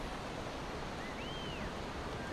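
A roaring waterfall pours down among hills in heavy rain, a steady, broad wash of rushing water with a faint whistle-like tone rising briefly in the middle.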